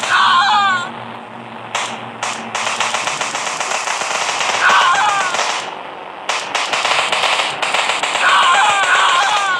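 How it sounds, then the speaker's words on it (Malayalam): Rapid bursts of gunfire from the mobile game Indian Bike Driving 3D crackle in dense, continuous volleys, loud and near, with brief gaps and occasional higher game sound effects. "എന്നിട്ട് നമുക്ക് ഇവരെല്ലാം വെടി വെക്കാം"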